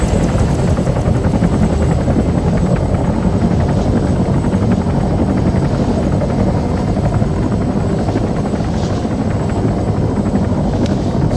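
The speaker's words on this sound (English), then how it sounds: "I hope these helis don't crash into each other" A helicopter flying in the video game Arma 3, with JSRS Dragonfyre sound mods, gives a loud, steady rotor roar and engine drone that stays constant throughout.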